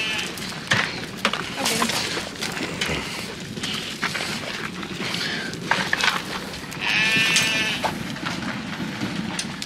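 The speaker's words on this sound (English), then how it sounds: "Rowdy, go in there and eat with the other sheep." Sheep bleat repeatedly amid the shuffle and hoof clatter of a livestock pen, with lambs nearby, a loud, clear bleat near the end and a person talking in between.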